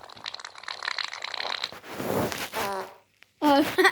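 A string of fart sound effects: a crackly, sputtering buzz first, then a low rumbling blast and a short rising squeaky toot after a brief pause, close and loud.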